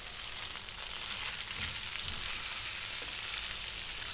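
Poha-suji rolls topped with chili flakes and coriander frying in oil in a pan, a loud, steady, close sizzle that runs unbroken throughout with no talking.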